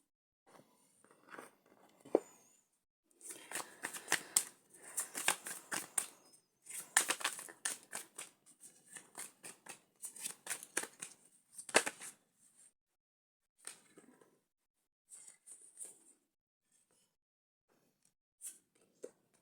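Tarot cards shuffled by hand at close range: a series of brisk papery riffling bursts, some long and some short, separated by brief pauses, with no talking.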